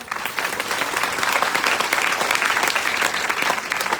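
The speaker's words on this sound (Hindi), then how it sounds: "ये जोरदार ताली बजाओ" A seminar audience applauding loudly and steadily throughout, dense clapping with no pauses.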